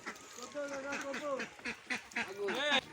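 Several Khaki Campbell ducks on a duck farm quack in short bursts through the clip, with a voice talking over them and a louder run of quacks near the end as they are let out.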